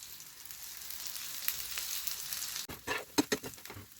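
Crab sticks frying in oil in a pan: a close, continuous crackling sizzle, with a burst of sharper pops and spatters in the latter half as more oil goes in.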